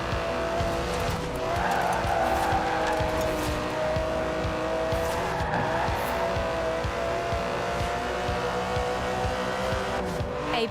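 An Aston Martin DB11 with a 5.2-litre twin-turbo V12, driven in Forza Horizon 4, roars continuously at high revs, its loud engine note steady throughout, with tyre squeal mixed in.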